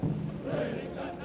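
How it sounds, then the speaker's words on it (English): Rain falling in the video game Enlisted during a battle in Berlin, a steady close patter on surfaces with a low rumble beneath it. "It's raining."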